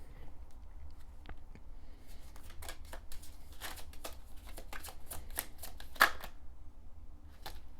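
Tarot cards being shuffled and drawn, a run of crisp riffling flicks and soft slaps close by, with quiet pauses between bursts and no talking.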